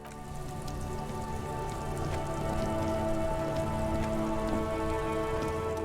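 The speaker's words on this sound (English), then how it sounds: "Stuck in the rain in a traffic jam" Steady rain in the video game Disco Elysium pours onto surfaces during a traffic jam, a constant even hiss with scattered droplet ticks throughout, no voices.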